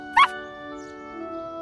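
A cartoon puppy gives one short, bright yelping bark-whimper, then falls quiet over a steady tonal music bed.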